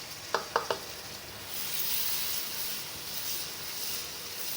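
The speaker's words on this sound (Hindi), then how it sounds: "और इसको भी थोड़ी देर भून लेंगे कि टमाटर सॉफ्ट हो जाए।" Finely chopped tomatoes frying in a pan for haleem: a steady close sizzle and hiss, opening with a few quick scraping stir strokes, then continuous frying with no voices.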